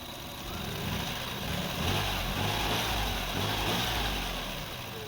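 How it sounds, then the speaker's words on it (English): A 2000 Lexus RX300 engine idles in a steady, even low hum at close range, with no talking. "The engine is idle, no shaking."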